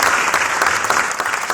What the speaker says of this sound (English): Let's give a round of applause for all the speakers.